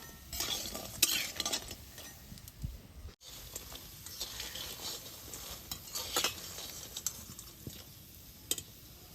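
Fritters made with gondho patali leaves frying in oil, a soft continuous sizzle with frequent light clinks and scrapes of a utensil against the pan, fairly quiet and close.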